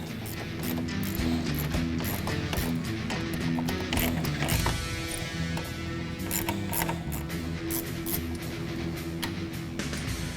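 Ratchet removing front bumper cover screws on a 2015-2022 Ford Mustang, a rapid mechanical clicking of the pawl in a steady run, close and fairly loud, over a droning background.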